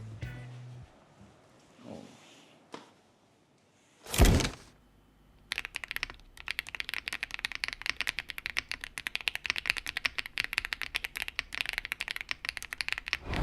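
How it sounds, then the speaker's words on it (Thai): Rapid, steady clacking of a DEKAY ELE75 mechanical keyboard with loud Blue Gray tactile switches, close and fairly loud, after a few scattered handling knocks at the start. "สวิตช์แท็กทาวที่มีเสียงดังมากนั่นคือ Blue Gray Tactile นะครับ ลองฟังกันดูครับ"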